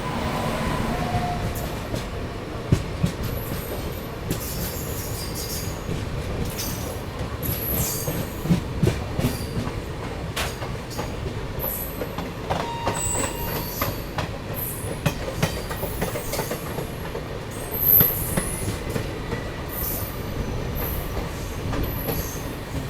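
A Karnataka Sampark Kranti express train from Nizamuddin to Yesvantpur, braking after a chain pull near Vrindavan Road, rumbles steadily with rattling carriages and intermittent high wheel squeals, heard from on board.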